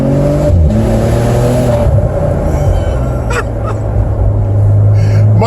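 A 2015 Maserati Ghibli SQ4 engine revs hard on a downshift, a loud close growl with rising tones and brief honk-like bursts.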